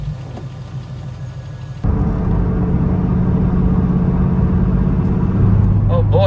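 A C5 Corvette's engine drones steadily from inside the cabin as the car gets underway, a low continuous rumble that rises in level partway through, with a voice speaking over it.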